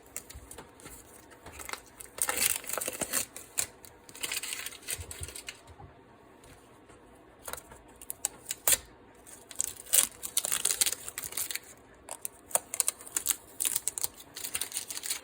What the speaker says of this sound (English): now that we're done with the fretboard, we can remove all the tape from the pickups